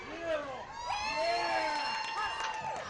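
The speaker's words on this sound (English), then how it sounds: "The crowd woke up." Spectators in the stands at a high school varsity football game between Lake Havasu and Cactus cheering and shouting, a mix of raised voices and whoops rising together at moderate distance.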